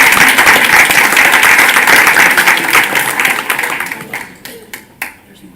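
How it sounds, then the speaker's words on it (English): Audience applause at a school board meeting: dense, sustained clapping from a roomful of people that holds steady, then thins out into a few scattered final claps as it dies away. "another round of applause for these"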